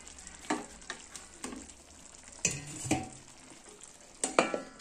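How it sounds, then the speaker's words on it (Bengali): Ash gourd curry sizzles in a pan while a spatula scrapes and stirs it in repeated sharp strokes, close and fairly quiet, with bursts of frying between the scrapes. "এই দেখো এইদিকে আমি একটা চাল কুমড়ো তরকারি বানাচ্ছি"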